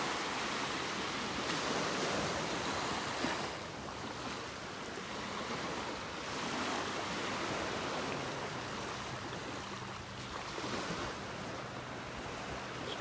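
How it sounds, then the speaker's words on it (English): Gentle surf washing onto a calm beach in North Naples, Florida, a continuous soft rushing with slow swells rising and falling, no voices. "The little waves rolling onto the shore."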